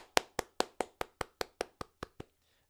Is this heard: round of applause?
yes